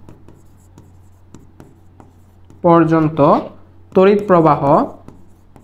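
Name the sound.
writing during a physics lecture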